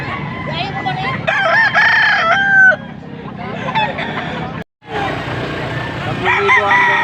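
Stag roosters crow repeatedly at a rooster auction in Angeles, Pampanga, several drawn-out calls overlapping amid crowd murmur and background chatter, with a brief dropout near the end.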